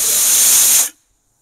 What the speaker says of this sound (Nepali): प्रेसर कुकरमा चाहिँ मैले मिडियम हिटमा 2 सिटी लगाइसकेँ।